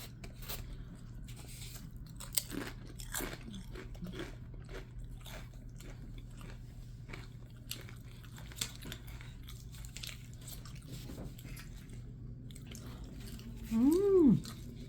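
Someone eats a ground beef burrito with chips inside, with close, quiet bites and crunchy chewing scattered through a soft background hum and a brief vocal murmur near the end.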